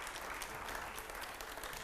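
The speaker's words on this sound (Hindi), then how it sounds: "और तालियां रुकनी नहीं चाहिए" An audience at a televised interview event applauds steadily, a dense, continuous wash of clapping with no voices over it.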